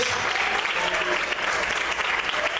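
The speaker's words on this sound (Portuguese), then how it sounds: "Você pode aplaudir e exaltar ao Senhor nessa noite." A church congregation applauds during a sermon, a dense, loud, continuous spread of clapping from many people that stays full and even from start to finish.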